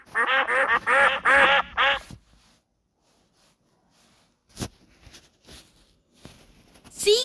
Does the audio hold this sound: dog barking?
no